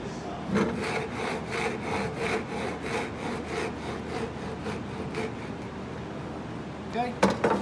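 A hand saw cuts a wooden dovetail joint in steady rhythmic back-and-forth strokes, close and moderately loud, ending with a few sharper knocks as the cut finishes.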